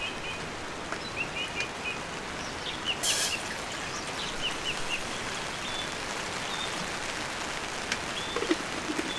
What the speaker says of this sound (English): It's raining properly now.